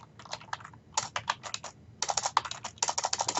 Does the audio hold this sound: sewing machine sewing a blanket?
no